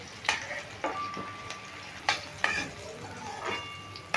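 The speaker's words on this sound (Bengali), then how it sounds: "যাকে দু মিনিট আমি ভেজে নিলাম এবার খুলে নিচ্ছি এই যে কুমড়ো আর গাজর যেগুলো আছে সেগুলো আমি আলাদা করে তুলে নিচ্ছি" Fried pumpkin and carrot lifted out of a pan of hot oil: a steady soft sizzle with several light scrapes and taps of a utensil against the pan, close and fairly quiet, with no talking.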